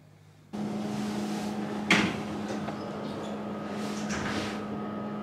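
A hotel room door swings open and knocks against its door stop with one sharp impact, heard over a steady low room hum.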